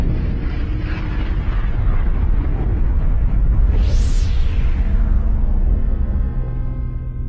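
A supernova explosion sound effect, a loud sustained cosmic roar and rumble that swells with a sweeping burst near the middle, then slowly fades and thins, with no voices.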